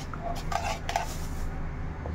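Chili oil stirred in a pot with a metal utensil, soft scraping and a few light clinks against the pot over a quiet background, close and brief.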